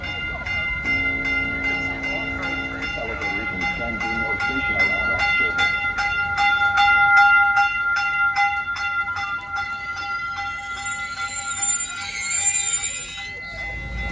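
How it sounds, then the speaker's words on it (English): A high-speed train rolls into a station in Santa Clara, its wheels ticking in a steady rhythm beneath sustained high tonal whines and ringing bell-like tones, loud and close, with voices talking over it. "So here comes the train we're going to ride."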